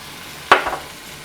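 Homemade guar beans hit hot oil-rich masala in a pan, a sudden sharp sizzling burst that flares loudly and then fades over about half a second, close up with no voices.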